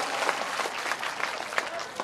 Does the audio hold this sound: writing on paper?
no